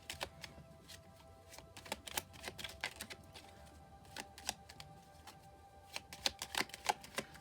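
A Starseed tarot deck being shuffled and cut, a run of soft, quick card riffles and taps in irregular bursts, faint and close, with no talk.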